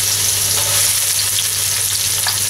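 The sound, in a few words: sautéing garlic and onion in hot oil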